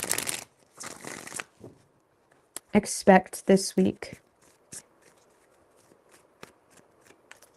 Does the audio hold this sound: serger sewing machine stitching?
no